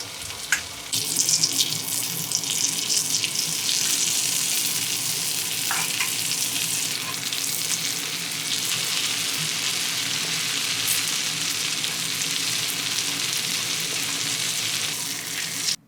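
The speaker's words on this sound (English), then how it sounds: "When the butter makes a sound of joy, it is a signal to bring meat." Butter sizzles and crackles steadily in a hot pan before steak goes in, a continuous close frying hiss with occasional pops.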